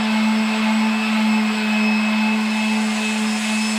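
Continuous whining drone of a power sander working over a homemade wooden medieval crossbow, a steady high-pitched hum with an even tone held close and loud throughout, with no talk.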